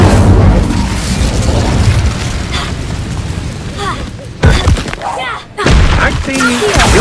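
An Incendio fire spell goes off in a Harry Potter-style video game, a series of loud, booming blasts with crackling bursts rising and falling over a few seconds.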